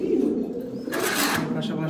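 A breeding pigeon gives a brief, low, close coo, followed by a short burst of broader noise.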